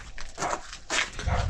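A dog barks in a few short, muffled bursts at moderate distance at a house, with faint background noise between them.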